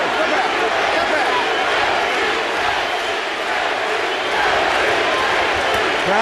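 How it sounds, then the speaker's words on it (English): A boxing arena crowd chanting JT for Jermain Taylor during his fight with Winky Wright, a dense, loud, continuous roar of many voices filling the whole stretch without a break. "Crowd is chanting JT for Jermain Taylor"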